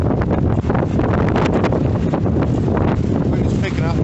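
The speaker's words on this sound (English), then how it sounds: "Wind is picking up" Strong gusty wind buffeting the microphone outdoors in Reykjavik, Iceland, a loud continuous roar with rumbling low buffets and no clear pauses.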